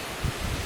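Strong wind buffets outdoors beside a pool in a brief, steady roar of broadband rushing noise with gusty low rumbles and no voices.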